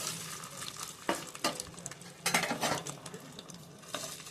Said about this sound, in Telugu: ఆయిల్ వేడెక్కాక దీంట్లో మనం ముందుగానే కడుక్కున్న చేపల గుడ్లు వేసేసుకోవాలి